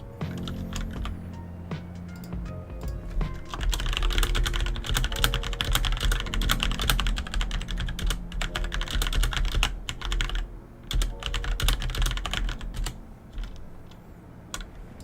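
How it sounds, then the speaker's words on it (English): Rapid, steady typing on a computer keyboard fills the whole stretch, a close, dense run of key clicks and clacks with only brief pauses and no talking. "that's some A quality, A tier typing skills there"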